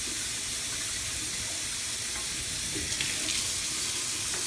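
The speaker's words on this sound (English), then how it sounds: "rinse out the sink." Kitchen tap runs steadily into a sink while it is rinsed out, a constant close hiss of flowing water with faint clinks in the background.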